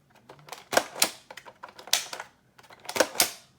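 A custom airsoft gas blowback MA37 built with parts from an old Nerf gun, giving a few sharp mechanical snaps and clacks as the trigger is pulled and it cycles, close up, about four distinct hits with quieter clicks between.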